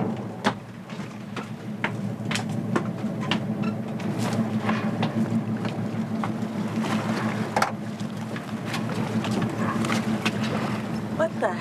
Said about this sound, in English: Is that a boat engine?